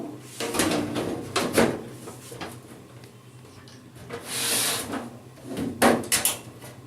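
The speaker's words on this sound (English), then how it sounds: "fit the back door." The back side panel of a desktop computer case is fitted into place, giving a few close scraping and sliding metal rubs with light knocks between quieter pauses.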